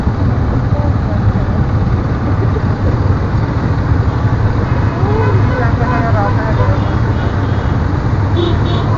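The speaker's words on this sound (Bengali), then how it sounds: "সবাই ইঞ্জিন ব্রেকের মাধ্যমে নামতেছি।" Vehicles creep slowly down a steep, dangerous mountain road toward Sajek Valley, holding back on engine braking; a steady low engine drone and road rumble run throughout, with voices talking over it.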